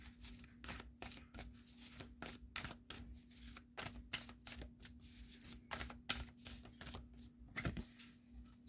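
Angel and ancestor oracle cards shuffled by hand in a quiet room, a rapid run of crisp papery riffles and flicks in irregular bursts, close and clear over a faint steady hum, with no talking.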